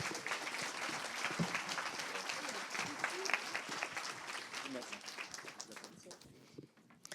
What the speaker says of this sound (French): Alors, on applaudit tout le monde.